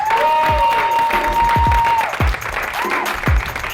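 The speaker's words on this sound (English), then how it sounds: "Big round of applause for Emily Schaefer." Comedy-show crowd in Chicago claps and cheers as a comedian is introduced, a loud, close burst of applause cut through by a long sustained whistle and a few sharp louder claps.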